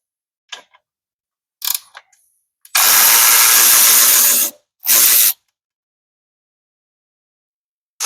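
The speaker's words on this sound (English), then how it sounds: "you see me using this power ratchet. I'm only going to use this for disassembly." A power ratchet spins out the 4mm Allen bolts on a Yamaha R7 motorcycle during a Dominator exhaust install, making a loud, close whirring burst of about two seconds, then a shorter burst after a few light clicks.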